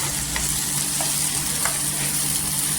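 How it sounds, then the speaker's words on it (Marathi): Tomatoes softening in hot oil in a pan for a Maharashtrian potato rassa, a steady close hiss of sizzling with a few faint stirring taps, no voices. "छान असा टोमॅटो आहे ना सॉफ्ट करायचा, तेलावर परतून घ्यायचं"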